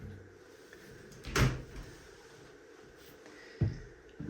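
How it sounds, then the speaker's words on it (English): Shower cubicle door in a house bathroom being opened, two distinct knocks or clunks about two seconds apart, close and moderately loud over quiet room tone. "there's the base and the door opening like so"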